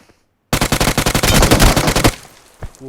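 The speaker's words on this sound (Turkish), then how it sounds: "adam UMP ile bana nasıl vuruyor?" A UMP submachine gun fires in PUBG Mobile, a loud, rapid automatic burst of about a dozen-plus shots lasting over a second, followed by a faint single report.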